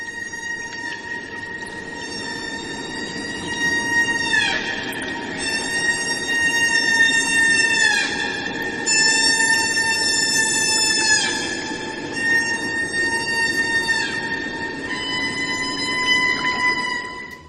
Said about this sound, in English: humpback whales sing, or more accurately, they make incredibly strange, loud, and even slightly frightening sounds that have no analogues in the world